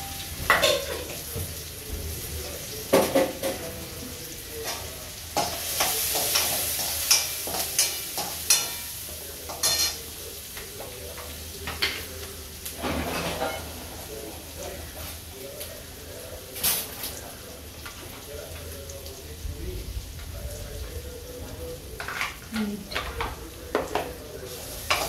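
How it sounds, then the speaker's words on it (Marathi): Peanuts and then chopped onion fry and stir in hot oil for a tempered rice dish, giving a steady low sizzle broken by sharp clinks and scrapes of a spoon against the pan, with faint birds in the background. "पहिला ना शेंगदाणे तळून घेते थोडे, आता कांदा टाकते"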